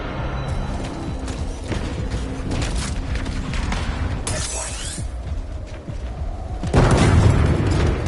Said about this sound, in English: Bomb's done arming. Get some distance!